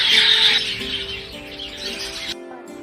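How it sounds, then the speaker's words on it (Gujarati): Pet budgerigar, a small flocking parrot, gives a rapid string of shrill squawks and chirps up close, loudest at first, then easing into softer chatter before cutting off. "બજરીગર એ નાના ટોળામાં જોવા મળતા પક્ષી છે તે કેવી રીતે અવાજ કરે તે આપણે જોઈએ"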